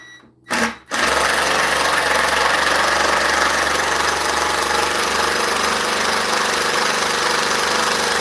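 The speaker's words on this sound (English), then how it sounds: "let's shoot a couple screws." A power screwdriver or impact driver sinks a screw on a farm job, a short quiet gap giving way to a loud, steady mechanical whir with a rattling, buzzing drive that runs unbroken for several seconds close to the listener.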